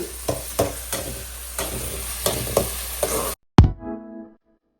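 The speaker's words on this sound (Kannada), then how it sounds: "ಚಪಾತಿ ಚೆನ್ನಾಗಿ ಫ್ರೈ ಮಾಡ್ಕೊಬೇಕು." Chapati frying in a pan, a low sizzle broken by regular knocking strokes of a spatula, then a sudden stop and one sharp ringing clang that fades out.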